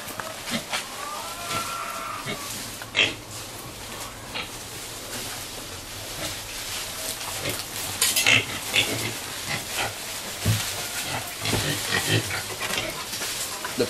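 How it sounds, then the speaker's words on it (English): Pigs feed on harvested wild plants and grasses, with steady chewing, rustling and crunching close by, scattered louder clicks and occasional faint grunts over a continuous low background. "The pigs like it."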